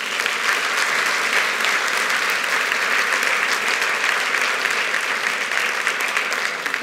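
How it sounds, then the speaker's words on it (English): Dense, sustained audience applause fills a conference hall during closing remarks at the DevOps Enterprise Summit London 2019, steady and loud throughout for the programming committee, with no voices over it. "For a round of applause for the programming committee."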